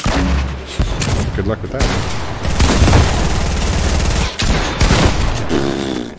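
Gunfire in the Fortnite video game, Season 8, dense bursts of shots and booms running through most of the stretch, loud and close, mixed under excited talk from a player.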